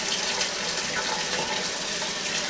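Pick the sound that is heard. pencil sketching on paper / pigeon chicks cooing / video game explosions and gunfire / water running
water running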